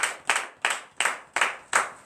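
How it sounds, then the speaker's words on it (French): A congregation at a morning prayer service in Benin claps in acclamation, six sharp, evenly spaced claps forming a steady rhythm, fairly close and alone. "Donnons une vive acclamation à notre Seigneur Dieu."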